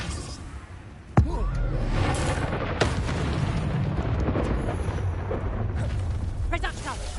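A Confringo fire spell explodes in a video game with a sharp booming blast, followed by another impact and a sustained roaring, crackling rumble, loud and close, while a voice speaks over it.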